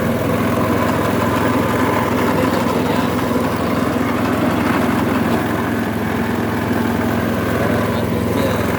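A motorized sugarcane juice machine runs continuously with a steady, loud mechanical engine drone and whir throughout, with a voice talking faintly under it.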